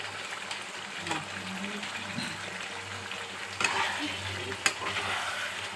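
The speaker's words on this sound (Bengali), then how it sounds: "এবার আমি এতে একটু ঘি দিয়ে দিলাম" Ghee sizzles steadily in a pan while chicken malai curry cooks, a continuous frying hiss with occasional stirring clinks and a low background hum, and no talking.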